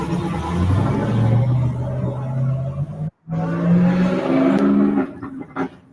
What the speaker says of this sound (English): That's that truck.